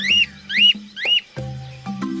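A parrot imitates a bird call: three sharp, rising whistled chirps in quick succession, then a couple of lower, steadier hooting tones.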